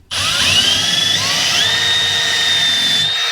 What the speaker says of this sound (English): we'll drill one right here